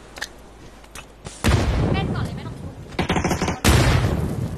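Bursts of gunfire from a shooting video game, one short burst early, then long sustained stretches of automatic fire that fill most of the clip, loud and close, with players' voices talking over the action.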